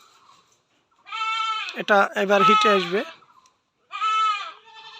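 A young four-tooth goat on a farm bleats in two long, loud, wavering calls, with someone talking close by between them.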